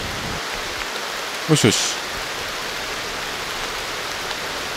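Steady rain falling at night in the video game Aloft, a continuous even hiss that fills the whole clip. A brief spoken murmur and a short rustling burst sit over it.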